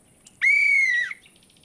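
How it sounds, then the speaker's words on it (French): A child's toy whistle gives a single clear, shrill tone lasting under a second, close and loud against near silence, followed by a few soft faint chirps. "Mon sifflet."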